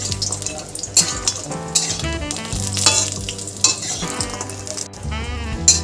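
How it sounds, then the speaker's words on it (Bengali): Lentil dumplings (bori) fry in hot oil with a constant close sizzle, punctuated by repeated clinks and scrapes of a utensil against the pan. "আমি বড়িগুলো তেলে ছেড়ে দিলাম বড়িগুলো এবার একটু ভালো করে ভেজে নেবো"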